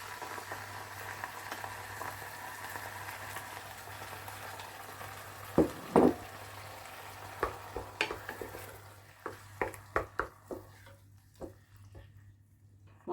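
Chopped tomatoes going into a hot frying pan of softened onions for a pizza sauce, giving a steady low sizzle with a spoon scraping and clattering against the pan in a run of sharp knocks toward the end.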